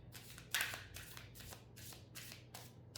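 A deck of angel cards is shuffled by hand, giving several quick, quiet riffling bursts in a loose rhythm, close up and faint, with no speech.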